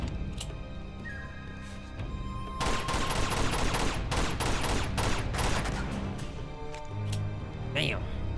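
Rapid bursts of gunfire from the video game Uncharted 2: Among Thieves crackle in dense volleys for several seconds. A player talks over the shooting throughout.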